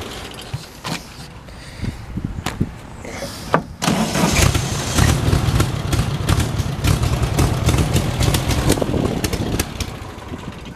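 A dune buggy engine cranks a few times with sputtering bursts, then catches into a rough, loud, uneven running roar while the gas pedal is held down.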